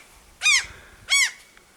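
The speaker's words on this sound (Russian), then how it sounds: "Отчаянные, бесстрашные чайки." Gulls nesting on a house's slate roof give two loud, close, harsh calls about half a second apart, with quiet in between.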